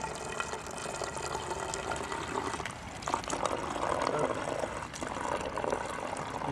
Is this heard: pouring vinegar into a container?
yes